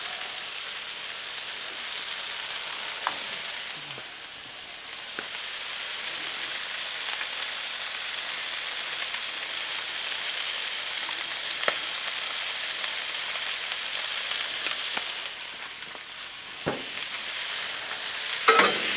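Fajita peppers and onions with oil and seasoning sizzle loudly on a Blackstone griddle, a dense steady hiss broken by a few sharp spatula taps and scrapes.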